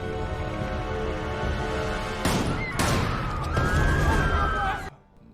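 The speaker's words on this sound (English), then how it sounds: "this time prevailing and lethally shooting the Archduke and his wife, Sophie." Gunshots ring out in a film scene of the Archduke's assassination, sharp bursts over a loud musical score with a sustained tone, several blasts in quick succession before the sound cuts off.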